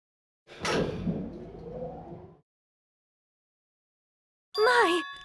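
A door in the video game Danganronpa 2 grinds slowly open, a long broadband rumble of about two seconds. After a pause a short tonal chime follows.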